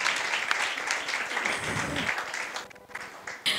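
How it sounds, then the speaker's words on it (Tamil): Sustained, enthusiastic audience applause fills a Tamil pattimandram debate hall at an Independence Day event, a dense wash of many hands clapping that dips briefly near the end before picking up again. "நல்லா கைத்தட்டி உற்சாகமாக."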